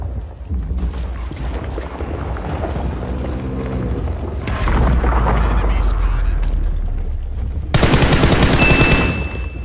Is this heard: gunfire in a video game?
yes